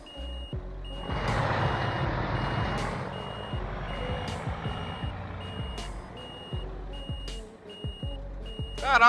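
Reversing beeps from a truck parking in Euro Truck Simulator 2 repeat in an even rhythm of sharp tones over a low, steady engine rumble that swells and fades slightly.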